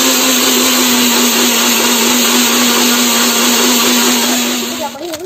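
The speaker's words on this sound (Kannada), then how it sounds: "ಇವಾಗ ನಾವಿದನ್ನ ಚೆನ್ನಾಗಿ ಬ್ಲೆಂಡ್ ಮಾಡ್ಕೊಳ್ಬೇಕು. ಇದನ್ನ 1 ನಿಮಿಷ ಬ್ಲೆಂಡ್ ಮಾಡ್ಕೊಳ್ಳಿ" A blender runs steadily at high, loud speed, whirring through sugar for vanilla fruit cake batter, with a constant motor tone for about five seconds before easing slightly at the end.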